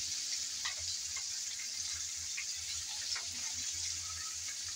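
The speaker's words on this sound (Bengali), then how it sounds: "এভাবে কিন্তু একটু সময় ধরে ভাজতে হবে। দুটো সাইড আমি উল্টিয়ে পাল্টিয়ে ভালোভাবে ভেজে নিলাম।" Chicken pieces deep frying in hot oil, a soft steady sizzle and bubbling with a few faint clinks and scrapes as pieces are turned, fairly quiet and close, no talking.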